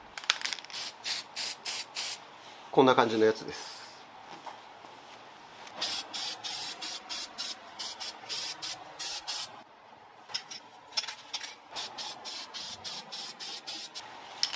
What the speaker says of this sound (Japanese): カッパースプレー塗っておきます